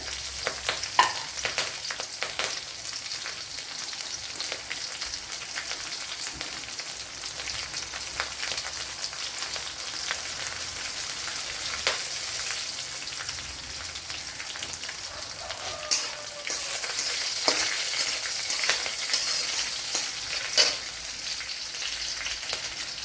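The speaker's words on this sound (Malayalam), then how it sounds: "2 പച്ചമുളക് അരിഞ്ഞത് ഇട്ട് കൊടുക്കാൻ" Ginger and chopped green chillies frying in a pan for broken wheat uppumavu, a continuous crackling sizzle like light rain, with scattered sharper pops and occasional stirs, no talking.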